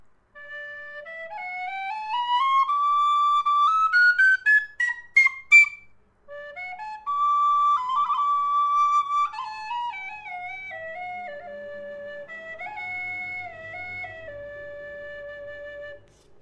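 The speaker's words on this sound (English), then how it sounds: "the very first whistle I purchased was a McNeela Wild Irish" A McNeela Wild Irish High D tin whistle plays alone, close and clear, with a sustained melody of rising runs, held notes and stepwise falling phrases.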